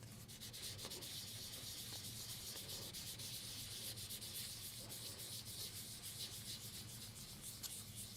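Sandpaper rubs over a super glue finish on a cypress wood hollow form, giving a continuous rasping scrub with fast repeated strokes, close and steady throughout.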